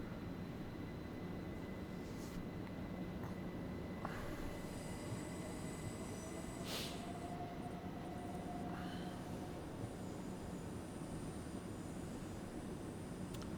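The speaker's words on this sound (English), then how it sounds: "that's the train we just brought in. It's sodding off and going back out again." A train pulls out in Train Sim World 5 on the London to Eastbourne via Brighton route, a low, steady rumble of railway cars with faint wheel squeals and a few clanks, heard quietly from a distance.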